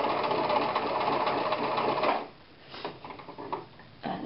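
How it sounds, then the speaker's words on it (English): A manual sewing machine zigzag-stitches across a button, running loud and steady for about two seconds, then stopping and giving way to a few scattered clicks and soft handling sounds. "sew across the zigzag"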